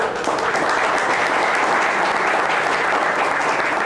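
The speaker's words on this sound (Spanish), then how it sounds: "Pido por igual un fuerte aplauso" A crowd at a baseball team press conference claps loudly and steadily, dense applause filling the whole stretch without a break.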